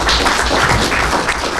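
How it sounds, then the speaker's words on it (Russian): Steady applause from a group of city and regional officials and hockey club leaders at a memorandum signing, a dense close patter of clapping continuing throughout. "И подписание меморандума состоялось под аплодисменты представителей власти города и области"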